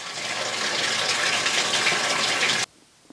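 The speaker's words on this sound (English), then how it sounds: "Now this is our water running in after we cleaned the strainers on our water line." Water rushes steadily into a washing machine through a freshly cleaned inlet line, a loud, even hiss and gush lasting almost three seconds before cutting off abruptly into quiet.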